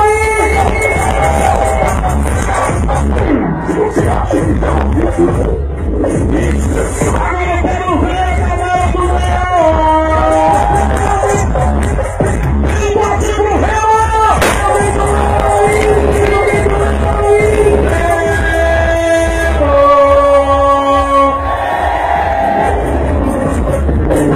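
Football fans cheer and chant in a dense, loud roar that continues without a break, with whoops and shouted voices rising through a steady crowd din.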